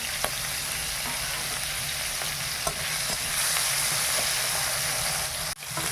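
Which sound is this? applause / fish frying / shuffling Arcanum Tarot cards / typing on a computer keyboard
fish frying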